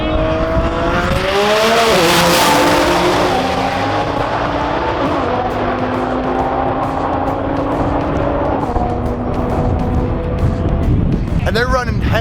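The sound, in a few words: drag race start, red Nissan GTR versus blue Audi R8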